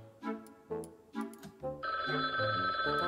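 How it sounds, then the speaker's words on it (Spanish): A telephone rings in the Gartic Phone drawing game, a bright, steady electronic ring that starts partway through and holds loud to the end over an upbeat music track. "Cuidado, que suena el teléfono."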